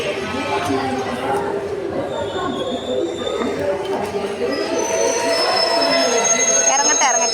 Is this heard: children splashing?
no